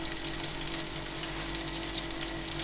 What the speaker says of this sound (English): Have the mushrooms frying.